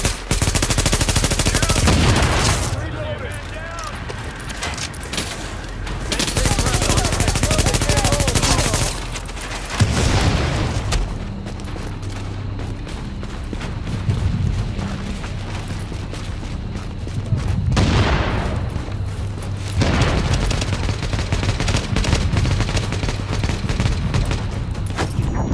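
Turret and weapon fire in The Division video game, loud and sustained, with bursts of automatic gunfire and booms that run across the whole stretch in dense, overlapping volleys and brief lulls.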